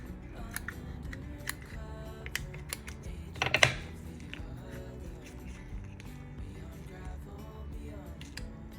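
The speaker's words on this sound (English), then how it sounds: "Let's use some scissors." Scissors snip through thick paper in a few quiet crisp cuts, with one louder crunching slice midway, amid soft handling rustles and clicks in a quiet room.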